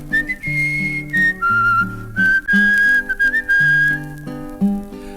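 A person whistles a bright, lilting tune in long held notes over a simple plucked accompaniment, clear and close.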